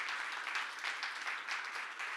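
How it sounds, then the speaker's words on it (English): A remote audience's round of applause at a university event on responsible AI in education, a steady broad wash of clapping that holds evenly for a couple of seconds with no talk over it. "Can I get a round of applause for everybody for sharing their great work?"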